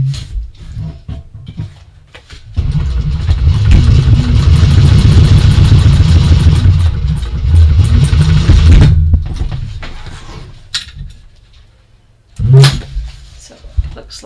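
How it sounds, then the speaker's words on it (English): A sewing machine top stitching a seam on a fabric bag runs in one steady, fairly loud mechanical whir for about six seconds, with quieter handling noises before and after and a short thump near the end. "we're going to top stitch along here to hold that seam in place with a 1/8 of an inch seam allowance"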